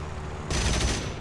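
Aircraft cannon fires a short, loud burst of rounds in the combat flight game War Thunder, breaking over a steady engine drone and lasting about half a second.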